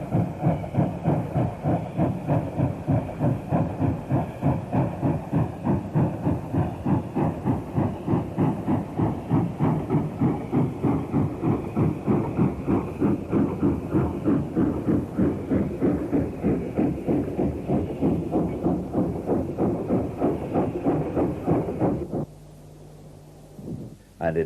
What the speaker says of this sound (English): A Stanier Class 8 also heads up Hatton Bank with this freight working.